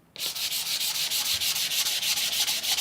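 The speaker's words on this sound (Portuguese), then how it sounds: "novamente com a lixa fininha de 600 vou dar" Fine 600-grit sandpaper rubs by hand across a painted wooden box, a close, loud, rhythmic scratching of regular back-and-forth strokes that starts abruptly after a brief quiet moment.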